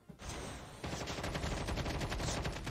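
Rapid automatic gunfire from COD Mobile battle royale rattles as a dense, continuous burst of shots, loud and close, with no voices.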